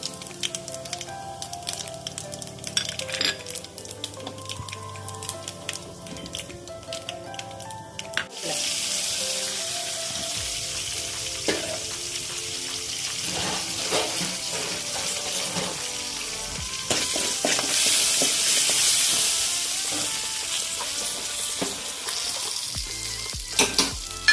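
Mustard seeds, cumin and fennel powder crackle and sizzle in hot oil for a banana stem dal koottu, a dense steady frying hiss that grows brighter and louder midway, with occasional stirring clinks.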